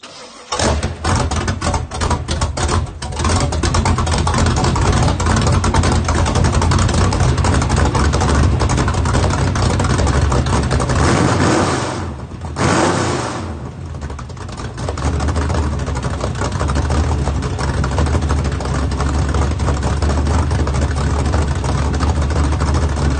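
A new small block Chevy V8 engine fires up and settles into a loud, rowdy, lumpy idle, with a brief dip in level partway through before the rumble resumes, no voices.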